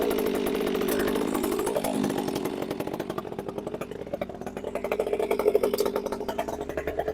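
A Stihl MS362 C chainsaw's small two-stroke engine runs close by on choke after weeks unused, sputtering and idling unevenly with a rough, buzzing rattle that rises and falls.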